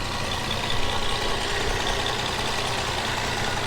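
The 3.5-litre VQ35 V6 engine of a 2009 Nissan Maxima idles steadily up close, a constant low rumble with a slight uneven flutter and no voices.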